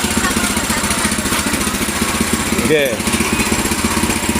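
A Ronin 7.5-horsepower cultivator engine runs steadily and loudly outdoors, a constant chugging drone throughout, with a brief spoken word over it midway.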